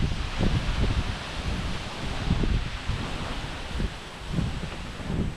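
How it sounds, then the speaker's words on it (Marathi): Gusty wind rushes through coconut palm fronds near a terrace, a low rumbling buffet that swells and eases in uneven waves with a soft rustle on top. "वाऱ्याचा आवाज येतोय तुम्हाला"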